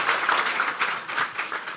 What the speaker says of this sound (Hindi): बजा दे यीशु के जलाल के लिए जोरदार तालियां